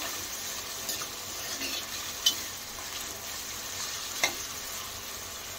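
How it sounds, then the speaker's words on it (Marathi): Paneer and capsicum shallow frying in a pan, giving a soft, steady sizzle close by, with a couple of brief clinks or stirring knocks and no one talking. "पनीर पण शिमला मिरची बरोबर यामध्ये फ्राय होईल चांगलं"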